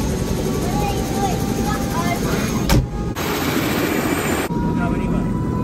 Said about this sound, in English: These are the rotor blades of the helicopter that spin around like a big fan and blow air down to lift the helicopter so it can fly.